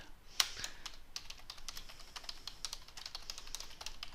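Someone types fast on a computer keyboard while working on a Microsoft Word table, a quick steady patter of light key clicks with one sharper tap near the start, close and fairly quiet.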